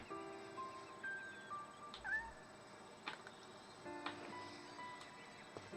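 A cat in the video game Shenmue gives several faint, thin meows, a series of short weak cries spread across a few seconds against a quiet background.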